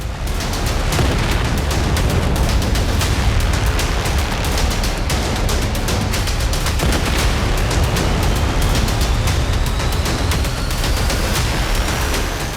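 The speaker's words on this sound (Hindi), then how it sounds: "ये देखिए, एक धमाका होता है और पूरा इलाका धुएं के आगोश में समा जाता है।" Air strike on high-rise buildings in Gaza: a loud, sustained roar of blast and rumbling debris that fills the whole clip with dense crackling noise, and no voices.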